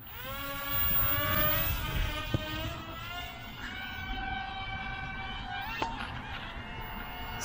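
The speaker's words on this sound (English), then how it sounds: "The motor is not stopping." Electric motor of a small EPP foam RC B-2 stealth bomber airplane running on, a steady whining tone with rising and falling pitch and harmonics over background noise, and two sharp clicks.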